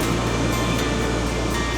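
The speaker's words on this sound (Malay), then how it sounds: "sambil dengar bunyi ombak" Ocean waves at Kamala Beach, Phuket, forming a steady, fairly loud broadband wash of surf with no clear breaks, alone and without talk.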